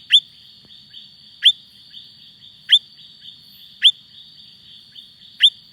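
A Platymantis frog's high, whistled chirps in a forest, five of them at steady intervals of just over a second, bright and clear against a quiet night background.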